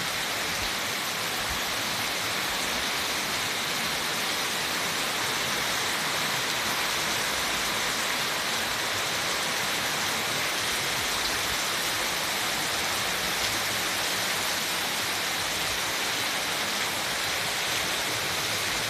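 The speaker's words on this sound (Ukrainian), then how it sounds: "Просили дощу, випросили." Heavy rain pours steadily throughout, a dense, unbroken hiss with no letup and no voices.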